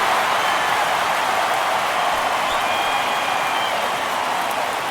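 A baseball stadium crowd roars steadily after a two-out home run to deep left field, a dense, sustained wash of cheering and applause filling the whole stretch at constant loudness.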